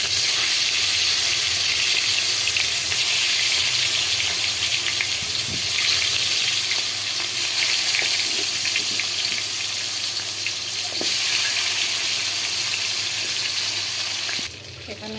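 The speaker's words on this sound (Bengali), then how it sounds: "এখন আমি মাংসগুলো ভেজে নেব।" Chicken pieces fry in hot oil in a home kitchen, a steady bright sizzle crackling throughout with occasional pops and clatters, close, ending with a brief disturbance.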